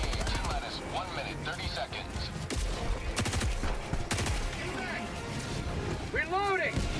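Light machine gun firing in Helldivers 2, rapid bursts of gunfire among explosions and game effects, heard under someone talking.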